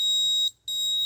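The gas alert buzzer on an ESP32 air quality monitor sounds a loud, steady, high-pitched electronic tone that drops out for a split second and then resumes, heard close and alone.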